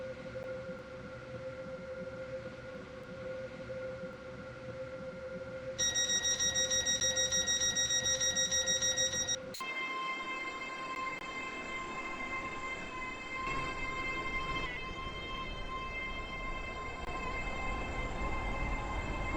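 Stepford Express train in the Stepford County Railway game running steadily with a continuous rumble and tonal hum, a bright whine joining partway, then a sharp shift as the drive note changes and carries on loud to the end.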